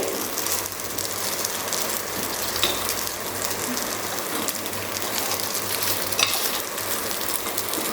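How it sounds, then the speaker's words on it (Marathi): Corn rava appe fry in oil in the cups of an appe pan, giving a steady, dense sizzle that crackles evenly throughout, with no one speaking. "आता आपल्याला सर्व बाजूनी व्यवस्थित फ्राय करून घ्यायचे"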